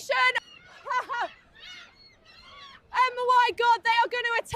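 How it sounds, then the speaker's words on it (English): Seagulls at Brighton Pier give loud, harsh squawking calls in repeated bursts, with a short cluster at the start and a longer run of strident cries near the end. "Chief Simmons, do you think the seagulls are working together"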